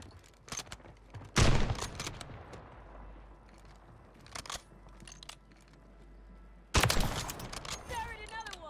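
Gunfire from Call of Duty Warzone on Rebirth Island with a Glock and Kar98k: sharp scattered shots and two loud bursts, with game effects and a voice talking in between.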